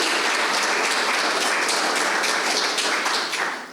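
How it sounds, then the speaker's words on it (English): Audience applause at a health policy conference on involving patient organizations, following a presentation; dense, steady clapping from a room of people, loud and sustained for a few seconds, with no talking over it. "let's give her a round of applause because I think that was a great presentation"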